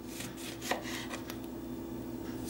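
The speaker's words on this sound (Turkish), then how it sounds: "Limonların şöyle alt kısımlarını kesiyorum. Yuvarlak halka şeklinde doğruyorum." Knife cutting lemons into round rings on a board in a home kitchen, a few light taps and scraping strokes spread over a couple of seconds, close and fairly quiet, with no voices.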